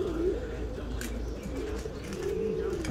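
Pigeons, including tumblers such as Birminghams, coo softly from inside a transport crate, low repeated throaty warbles layered over one another with a few faint chirps and a steady background rumble.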